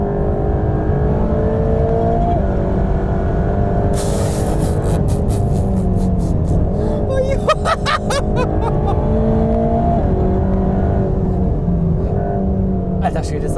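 A 730 PS Mercedes-AMG GT Black Series drives hard on the Nürburgring, its engine droning loud and steady from inside the cabin with shifts and rapid mechanical clatter, while the driver talks over it.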